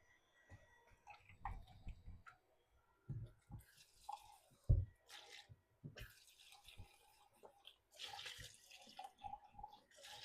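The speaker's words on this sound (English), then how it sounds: "Black beans like to stick in the bottom of the can, so just rinse them out of there." Canned black beans are rinsed under running water in short, faint splashing bursts, separated by quiet pauses and small knocks of the can.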